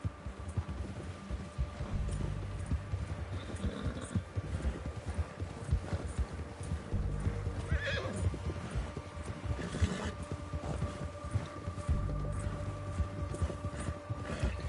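A horse gallops steadily in the Red Dead Redemption video game, its hoofbeats pounding in a continuous rhythmic patter over a rumbling game soundscape.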